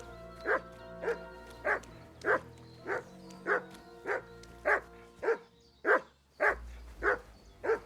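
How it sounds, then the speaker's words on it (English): A dog in the video game Kingdom Come: Deliverance II barks about a dozen times in a steady, evenly spaced rhythm, loud and close, with no other sounds over it. "Yes, bark, bark, bark."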